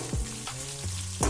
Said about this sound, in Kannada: ನೆಕ್ಸ್ಟ್ ನಾನಿಲ್ಲಿ ಹೆಚ್ಚಿಟ್ಕೊಂಡಂಥ ಮೆಣಸಿನ್ಕಾಯಿಗಳನ್ನ ಹಾಕೋತಾ ಇದ್ದೀನಿ.